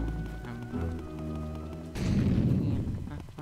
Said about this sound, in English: Just ignore the explosions going on.